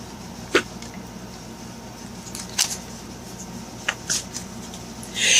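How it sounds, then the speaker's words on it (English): Angel tarot cards being shuffled by hand, a few soft, brief riffles and taps spaced apart over a faint steady background, ending in a longer rustle. "what I will do is shuffle an angel tarot card over here"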